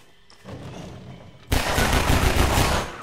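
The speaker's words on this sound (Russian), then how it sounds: "Черт возьми, походу автомат у него." An enemy's automatic rifle fires in Half-Life 2: a faint rumble, then a sudden loud sustained burst of rapid shots lasting over a second before it cuts off.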